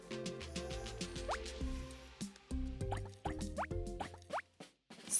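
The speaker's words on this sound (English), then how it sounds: "Add 4 or 5 drops of food coloring to the oil." Drops of food coloring fall into a container of oil, making a series of soft, close drips and plops with a few faint bright splashy tones.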